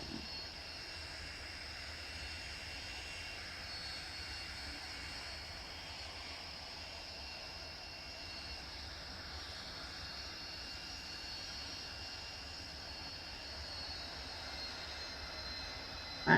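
An A-10 jet taxiing to the runway in the BRM 5 video game gives off a steady, even engine whine and rumble, held at a constant level and left unaccompanied throughout.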